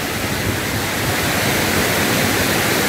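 Water roars out through the sixth shutter of the Pechiparai Dam on the Kodaiyar in Kanyakumari, a loud, steady, broadband rush heard close to the base of the shutter, with no voices over it.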